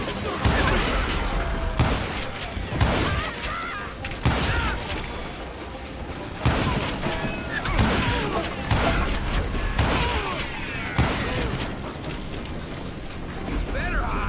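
Gunfire in the Western shooter Call of Juarez: Gunslinger, loud repeated shot bursts recurring every second or two across the span, mixed with clanking mechanical noises and a voice speaking over the action.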